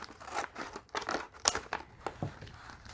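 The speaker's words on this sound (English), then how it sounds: "I usually cut about 1 inch from the top." Scissors cutting across the top of a plastic candy bag for a party favor pouch, a quick series of crinkly snips and rustles over about three seconds, close and fairly quiet.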